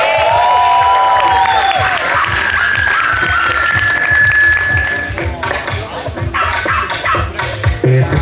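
An audience at a fashion show bursts into applause, with cheering and a whistle-like tone early on, then looser clapping and shouting under someone speaking over a microphone.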